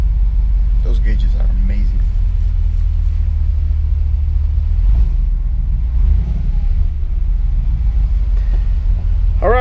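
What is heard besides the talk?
custom Jeep TJ engine starting and running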